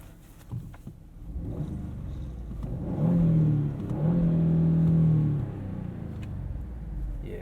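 A 2017 Ford Fusion Sport with a 2.7 liter EcoBoost engine revs from inside the cabin, two rising engine swells over a low road rumble, moderately loud with no talking.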